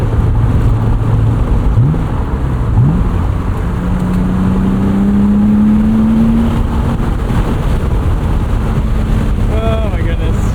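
A 1999 BMW Z3 M Roadster accelerates hard from up close with the top down, its engine note dropping at each quick gear change and then rising again, all set against steady wind rush.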